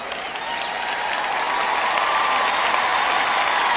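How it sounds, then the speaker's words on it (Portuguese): A church audience applauds all the mothers present, a sustained, even roar of many hands clapping that swells slightly and holds steady. "Gente, vamos aplaudir todas as mães aqui."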